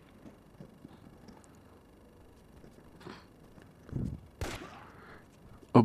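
Sniper rifle shots in the video game IGI 1, a few sparse sharp blasts separated by quiet game ambience, with the loudest report near the end over a faint background hum.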